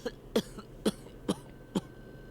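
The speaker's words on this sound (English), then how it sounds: "Coughing." A series of four sharp coughs, evenly spaced and close, with faint throat-clearing sounds between them and a quiet steady hum beneath.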